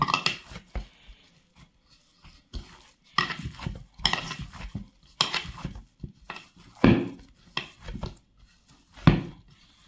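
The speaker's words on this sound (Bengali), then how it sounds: "এখন আমি ময়দাটা ভালো করে মেখে নেব।" Hands kneading dough in a bowl, giving irregular close bursts of pressing, slapping and knocking, separated by short quiet gaps.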